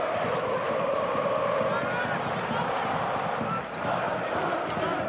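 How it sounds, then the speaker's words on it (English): Steady roar of a handball arena crowd at a European men's championship match between Serbia and Sweden, a dense continuous wall of noise with no pauses and no distinct voices standing out. "And the crowd, it would appear at least, doing their best and succeeding in unsettling the Swedes."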